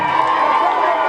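A crowd at a live music performance in Pongola, heard as a short, steady wash of cheering and shouting.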